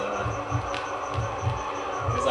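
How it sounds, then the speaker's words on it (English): A steady, low double-thump heartbeat sound effect from a Halloween vinyl record repeats in a slow rhythm beneath a constant airy hum. "There's a heartbeat, and it goes on forever."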